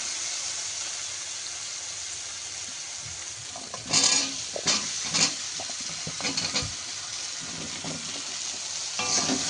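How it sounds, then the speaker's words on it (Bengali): Pointed gourd and potatoes sizzle in oil and spice paste in a pan, a constant frying hiss broken by several louder stirring scrapes, close and without speech. "দিয়ে এগুলো আমরা ভালো করে ভেজে নেব"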